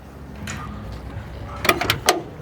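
A lowrider car door opens on a hydraulic switch: a soft slide early on, then a quick cluster of three or four sharp clicks and knocks, close and moderately loud over a quiet hiss.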